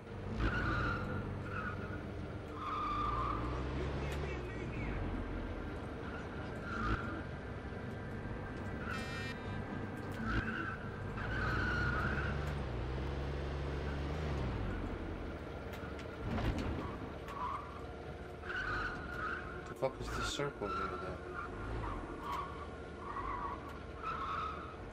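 Car in the PS2 game Scarface: The World Is Yours driving with a steady engine drone and repeated tire skids and squeals, moderately loud throughout.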